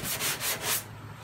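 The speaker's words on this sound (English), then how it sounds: "And if I have to sand all this putty off right here to get to putty that's only on the sanded stuff, then I will." Body putty being sanded on a Toyota Camry before primer, several steady scraping strokes up close that stop near the end, leaving quiet.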